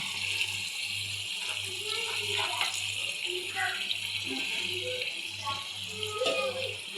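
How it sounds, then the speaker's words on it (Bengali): Milk pours in a steady liquid stream into rezala curry in a pot, a continuous gushing sound with faint background voices talking under it and a low hum running throughout. "এখন এটাতে একটু দুধ দিয়ে দিব।"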